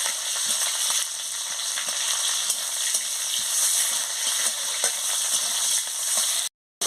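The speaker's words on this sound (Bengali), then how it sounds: "দিয়ে ভালো করে ভেজে নিচ্ছি।" Chopped onion frying in a pan with dried chilli for a Bengali onion-greens dish, a steady close hiss of sizzling oil with faint stirring clicks throughout, cutting out briefly near the end.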